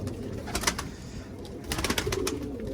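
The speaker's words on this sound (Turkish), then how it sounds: "Tekrar bir ikinci kez uçurmuş olduk kuşları." Pigeons cooing nearby sound in short soft bursts with a few faint flutters, fairly quiet against a low outdoor background and no talking.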